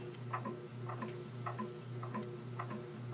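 Antique Century ceiling fan running on low speed, a faint steady hum with a regular soft ticking or clicking repeating about twice per second, resonating through the ceiling, no talking.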